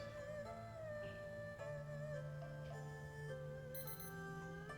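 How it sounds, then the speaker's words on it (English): A timer goes off with a steady, faint electronic melody of sustained tones that shift in pitch and keeps sounding without a break, with no talk over it. "timer's about to go off"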